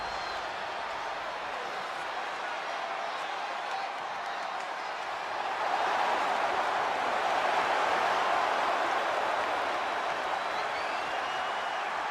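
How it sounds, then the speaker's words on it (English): A wrestling arena crowd in the video game WWE 2K25 roars and applauds continuously, swelling louder partway through as a steady, dense wash of cheering. "Rock and Cena face to face, feeding off the electricity of this crowd."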